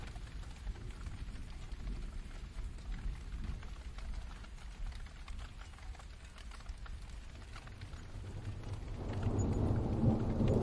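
Steady rain pouring down with a constant rushing hiss, with a low rumble of thunder underneath that swells louder near the end.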